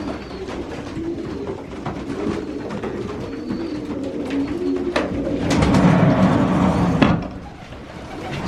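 Pigeons coo steadily inside a breeding loft, soft overlapping calls close by, swelling louder for a moment before easing back, with no talk.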